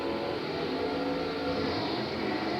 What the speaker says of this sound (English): Down it goes, big block poncho car trying to make the horses.